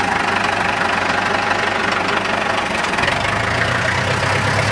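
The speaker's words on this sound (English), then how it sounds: "Put it back on gas so you can hear it run on gas later." A 2015 Super MTA tractor engine runs on gasoline, a steady, loud, close idle with a rough knocking pulse throughout and no pauses.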